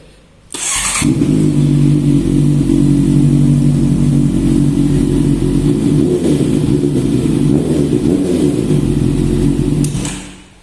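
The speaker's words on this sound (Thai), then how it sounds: "เดี๋ยวผมสตาร์ทฟังเสียงนะครับเรามาฟังเสียงกัน เสียงท่อแบบนุ่มๆเลย" A Honda CB650F four-cylinder motorcycle engine starts up and idles steadily with a smooth, throaty exhaust rumble, loud and close, for about ten seconds before cutting off.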